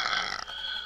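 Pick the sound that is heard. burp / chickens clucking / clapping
burp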